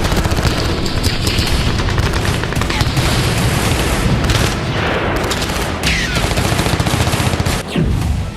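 Heavy battle gunfire from the Russia–Ukraine war, with dense machine-gun bursts and booming explosions overlapping loudly and continuously, and brief lulls between volleys.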